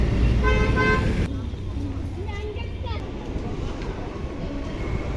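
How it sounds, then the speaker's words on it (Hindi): Ambience at Patel Chowk metro station in Delhi: a loud harmonic horn-like tone for the first second over steady rumbling train and platform noise, which then continues as a constant wash of mechanical hum and crowd background. "यहाँ पे देखिए पटेल चौक का स्टेशन है, मेट्रो स्टेशन"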